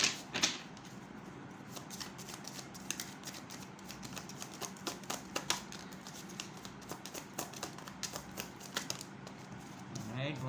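Tarot cards shuffled by hand, a steady run of soft riffling clicks and flutters with sharper taps, close and fairly quiet, continuing throughout.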